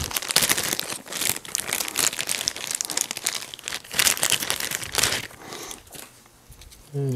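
Small cards from a Star Wars Assault on the Empire board game box being unpacked, with continuous close crinkling and rustling of plastic wrap and card shuffling, busy and loud, easing off near the end.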